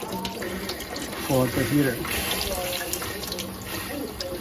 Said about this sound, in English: now here is the hot water running